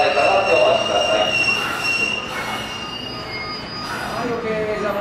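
Hanshin train wheels squeal loudly at Amagasaki station during the evening rush, a sustained high metallic screech with rumble and rail noise, close by, with station announcements in the background.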